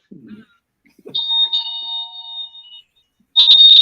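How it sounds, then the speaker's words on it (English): A doorbell chimes with a two-tone ding-dong, bright ringing tones sustained for about a second, then a third tone starts; brief rustle before, no talking. "here's my doorbell"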